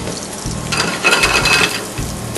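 A pork chop sizzles in a hot pan with shallot and garlic, a steady frying hiss with a brief louder burst of crackle midway and faint utensil clinks, no voices.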